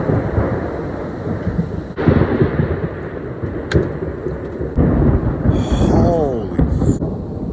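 Heavy thunderstorm at a lakeside campground on Lake George, with rolling thunder rumbling loudly over steady rain and a sharper crack partway through, while voices speak briefly.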